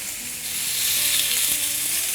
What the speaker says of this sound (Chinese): 我们煎牛排的时候，一定要把这个铸铁锅给它烧热